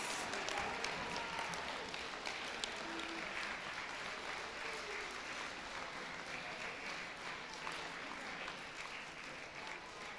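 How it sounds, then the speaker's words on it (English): Audience at a junior high school honors assembly applauds with a steady, even patter of many hands clapping, held at moderate distance for about ten seconds without talk. "Give them a round of applause."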